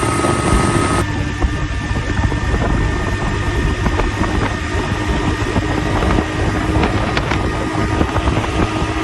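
A boat's engine drones steadily on a river, a continuous low rumble with wind buffeting the microphone throughout, no voices over it.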